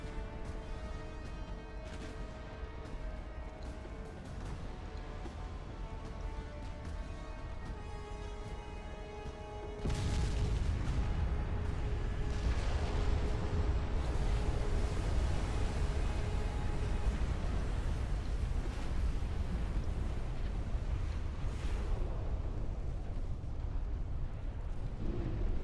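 Torpedo hits on a battleship in the naval game Ultimate Admiral Dreadnoughts, a sustained roar of explosions over a tonal drone, jumping louder and rumbling heavier halfway through, continuous and dense with no talk.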